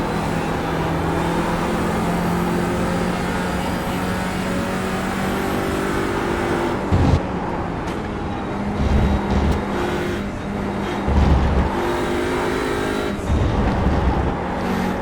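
Audi RS3 TCR touring car engine at full throttle in iRacing at Circuit of the Americas, a steady, close buzzing drone broken by brief dips and surges as gears change, with no talk.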